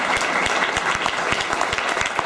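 Audience applause fills the room in a dense, continuous burst, with individual sharp claps popping through the steady wash, fairly loud and close, no voices on top.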